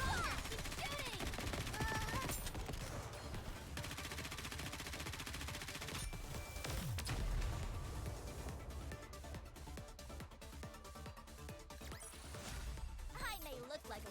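Rattling bursts of gunfire from the shooter game Goddess of Victory: Nikke keep going throughout under frequent character voice lines, dense and close, mixed with game music and effects.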